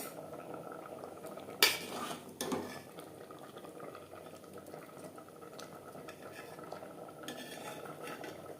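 Atop rice simmers in a pot over a low gas flame, a faint soft bubbling with two sharp metallic clanks of the pot or lid early on.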